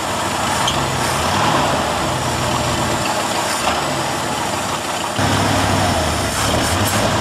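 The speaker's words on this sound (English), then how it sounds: "he'll run the motor until the carburetor runs out of gas and won't start again." A carbureted engine runs steadily as its fuel is used up, a loud, continuous mechanical drone with a slight shift in tone partway through and no voices.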